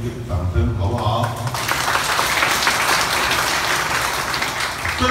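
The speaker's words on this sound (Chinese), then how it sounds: "大家给海巡岸巡一个掌声，好不好？" A crowd at a political town-hall meeting in Nangan, Matsu breaks into sustained applause for the coast guard, dense clapping filling the room after a voice briefly trails off at the start.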